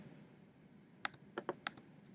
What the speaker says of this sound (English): Typing that in